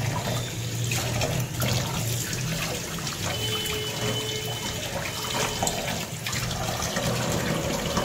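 Running tap water splashes steadily over small fish being washed in a kitchen sink, a continuous close, fairly loud rush with gurgling trickles and no talk.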